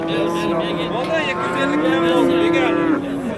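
At a livestock market, a cow lets out a long drawn moo close by, rising and falling, amid a busy crowd murmur and people talking throughout.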